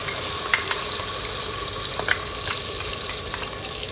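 Green chutney of coriander, mint, ginger, garlic and green chilli sizzling and frying steadily in a pan for a broccoli, mushroom and corn pulao, a continuous moderate hiss with a few faint stirring clicks and no talking.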